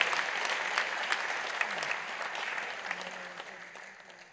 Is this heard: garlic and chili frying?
no